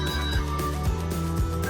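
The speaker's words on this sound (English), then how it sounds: "my phone just made a noise" A mobile phone chimes a short notification tone of repeated bright electronic notes, loud and close, with a low hum underneath during turkey carving in a kitchen.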